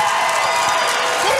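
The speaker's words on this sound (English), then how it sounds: "What are they sarcastic cheering about?" A high school boys varsity basketball crowd in a gym against Teutopolis, cheering sarcastically in a sustained, loud wash of voices and whoops.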